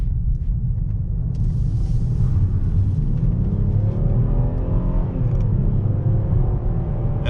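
A 2019 Cadillac XTS sedan driving and picking up speed, with a steady low engine rumble and rising whir as it accelerates, heard from inside the car with no talk.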